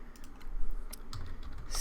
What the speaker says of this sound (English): Oops, I'm typing in the wrong spot.